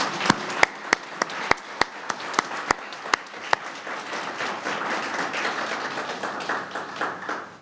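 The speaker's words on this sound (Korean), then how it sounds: "그 감사의 인사를 박수로 좀 보내도록 하겠습니다" A church congregation at a Sunday worship service applauds in thanks, with sharp regular claps leading a broad wash of clapping that continues steadily and fills the room.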